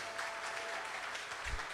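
A crowd applauds a young performer at a Krishna Mandir Diwali program, giving a brief, soft, continuous patter of clapping heard from a distance.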